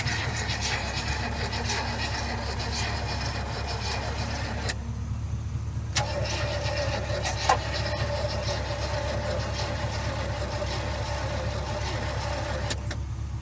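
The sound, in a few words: 1972 GMC truck engine cranking, failing to start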